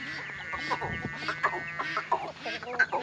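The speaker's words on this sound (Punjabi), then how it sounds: "ਇਹ ਕੱਢ ਦਿੱਤੇ ਜਨਾਬ ਕੁਕੜੀਆਂ ਕੁੱਕੜ ਬਾਹਰ" Hens and roosters let out of their coop cluck and call close by in a busy, overlapping stream of short clucks and squawks, with a person talking quietly underneath.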